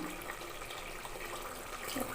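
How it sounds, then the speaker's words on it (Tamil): Water poured into a pan of mint rice with basmati, a steady close rush of running liquid with no talk over it. "நம்ம இப்போ தண்ணி சேர்த்துக்க போகிறோம் பாருங்கள்"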